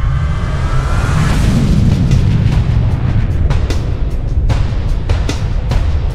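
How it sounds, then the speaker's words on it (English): A bunker buster bomb detonates in a deep, sustained rumbling boom, with heavy low roar and scattered debris-like crackles continuing loudly for several seconds. "A thunderous explosion tore through the underground complex, vaporizing everything inside."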